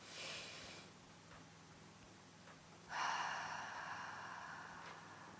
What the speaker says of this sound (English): breathe in deeply through the nose, fill up that belly, then exhale through the mouth